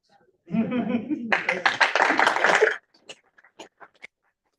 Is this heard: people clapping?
yes